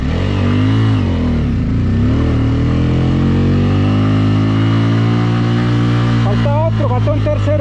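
Bajaj Pulsar N250 motorcycle engine pulling hard with a passenger aboard, a loud steady drone rising in pitch, with a brief gear change and renewed revving near the end.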